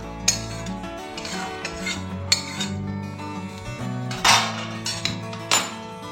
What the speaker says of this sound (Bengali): টমেটো দিয়ে খুব ভালো করে মিশিয়ে দেবো টমেটোটা